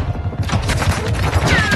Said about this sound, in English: They're shooting through the building!